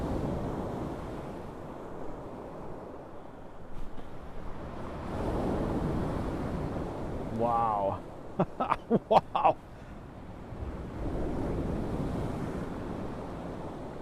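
Sea waves rolling onto Monastery Beach in Saranda, Albania, surging and washing in broad, repeated swells with wind noise, while a person exclaims briefly in amazement.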